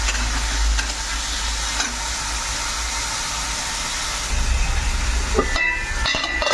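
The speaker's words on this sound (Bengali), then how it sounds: "এগুলো নিয়ে একটু ভেজে নেবো" Onions and tomatoes fry in a pan, giving a steady loud sizzle with scraping and clinking as they are stirred, and no voices over it.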